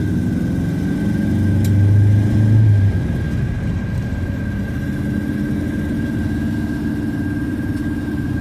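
A Ford Zephyr MKIV V4 classic car runs in the rain, a steady low engine drone with a slight swell early on, continuous and fairly close throughout.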